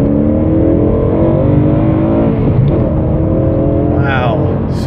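A car engine with a newly fitted clutch, an M3 or RSX, revs hard at full throttle, holding a loud steady high-RPM drone near the red line that rises in pitch toward the end.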